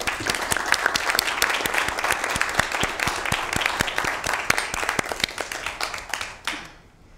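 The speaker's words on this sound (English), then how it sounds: "get a round of applause for all the awardees who attended here tonight" Applause for awardees at an evening commission meeting, a roomful of people clapping with sharp individual claps audible, tapering off and stopping near the end.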